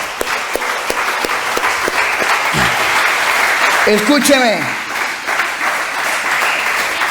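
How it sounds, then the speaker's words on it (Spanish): A church congregation applauds loudly during a Spanish-language sermon, steady dense clapping running throughout with a voice speaking over it and a brief vocal shout near the middle. "Denle un aplauso fuerte al Señor."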